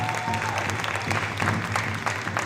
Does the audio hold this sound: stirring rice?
no